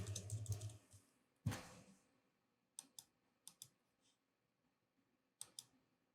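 Several quiet keyboard and mouse clicks as a password is typed and a lock icon clicked on a computer, with a louder cluster at the start and then sparse, isolated taps separated by near silence.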